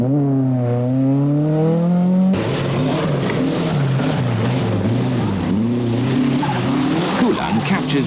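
Rally car skidding through a tightening right-hand bend at the 1982 Lombard RAC Rally, engine note wavering loud and close with tires scrabbling, while a commentator talks over it.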